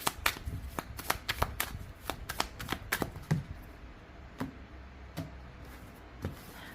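Cards being laid out one after another for a reading, a quick run of close, crisp snaps and slaps that slow into a few spaced flicks, with no voices.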